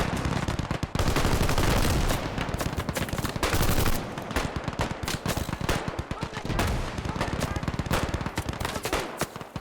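Dense, sustained automatic gunfire and rifle bursts from Viet Cong enemy troops in a Vietnam War hilltop firebase siege video game, loud and continuous with overlapping rapid cracks throughout.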